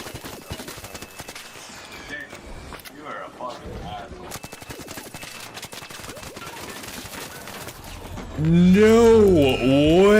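Gunfire in the video game ARC Raiders, rapid bursts of sharp clicking shots running through the clip beneath a voice, with a louder swelling sound effect near the end.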